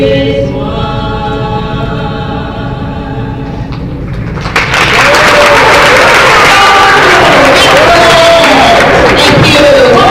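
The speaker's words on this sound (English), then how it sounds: "One more round of applause for Miss Dara." Applause and crowd noise from a school Black History Month assembly audience swell in loudly about halfway through, following a sustained tonal, music-like passage, and keep going with voices mixed in.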